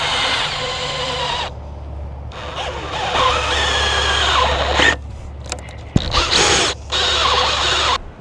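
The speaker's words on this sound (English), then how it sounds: "I'm gonna use these self-tapping metal screws to go into this." A power drill drives self-tapping metal screws into a bike rack being fitted for sewer tote storage, whirring in several loud bursts with short pauses and a squeal between runs.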